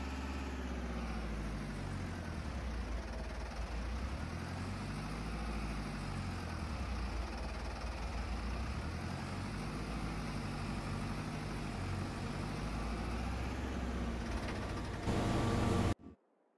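A combine harvester engine in Farming Simulator 22 drones at a steady idle with a low hum, continuous and unchanging before it cuts off abruptly at the end.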